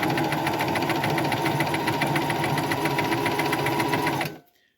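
A Singer Start Model 1304 sewing machine runs steadily while stitching, with a dense, rapid mechanical whirr and clatter at close range that winds down and stops near the end.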